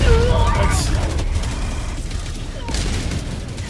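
A rocket explosion striking the player in Helldivers 2, a sharp burst of gunfire and blast noise that fades into rumbling combat, with a voice shouting over the din.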